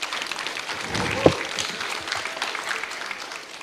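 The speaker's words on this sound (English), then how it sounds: "Could we have another round of applause for them, please?" An audience at the Pacific Skills Summit 2019 conference applauds with a moderate, fairly even patter of clapping. One sharper thump stands out near the middle.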